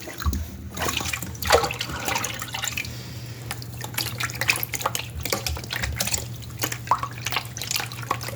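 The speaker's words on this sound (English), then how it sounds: "Filling it with water now." Water pours and drips into a gold pan holding Klesh Goldstrike paydirt, an uneven splashing and trickling with intermittent louder spurts throughout.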